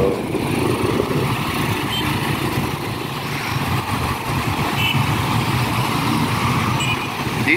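Road traffic with trucks and motorcycles, a loud continuous rumble of engines passing close by, with droning motors rising and falling and no talk over it.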